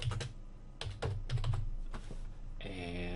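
Quick bursts of typing on a computer keyboard, clusters of soft clicky keystrokes in an irregular rhythm, heard up close and fairly quiet, followed by a brief tonal chime near the end.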